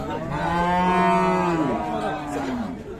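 A Friesian dairy cow at the Raniganj cattle market in Dinajpur gives one long, loud, close moo that rises and falls, lasting about three seconds.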